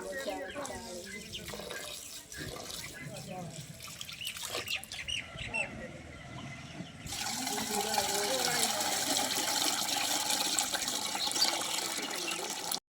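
Water splashes and swishes as grains are rinsed in a pot, with occasional clinks and a steady running-water wash in the second half.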